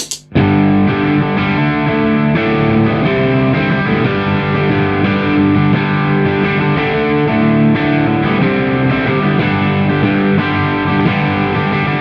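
An electric guitar plays through a Nobels ODR Mini overdrive pedal. Thick, driven chords ring out loud and continuously with no pauses, and no one talks.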